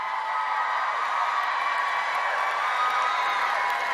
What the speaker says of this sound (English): I love seeing our educators stand up and applaud.